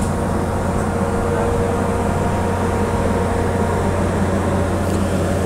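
Steady, loud low rumble and broadband roar of the ferry Santa Carmelita's exhaust on the open third-floor deck, continuous and unchanging with no talk.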